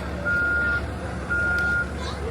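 A bus reversing near a historic hall lets out a loud, steady electronic beep in two long tones with a gap between them, over street rumble and traffic noise.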